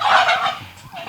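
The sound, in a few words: turkeys gobbling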